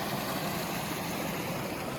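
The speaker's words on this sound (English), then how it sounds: "Pretty little waterfall." A small waterfall beside a backpacking trail in the Seven Lakes Basin and High Divide area gives off a continuous, even rush of falling water, fairly close and with no talking.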